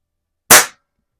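One loud, close shot from a Reximex RPA .177 PCP air pistol: a sudden crack with a quick decay and silence on either side, no voices.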